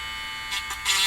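A handheld Dremel rotary tool drilling a hole through a cup gives a brief, close, high-pitched buzzing whine that surges in short bursts before cutting off.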